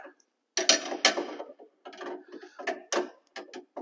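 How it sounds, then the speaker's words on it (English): A wrench tightens the aluminum kill switch on a Spec Miata MX5 race car, producing quick bursts of close ratcheting clicks separated by short pauses. "So first thing I'm going to do is I'm going to tighten the switch up. So I got my wrench."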